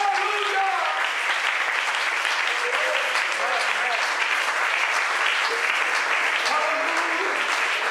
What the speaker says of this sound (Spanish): Denle un aplauso a la misericordia del Señor en esta mañana.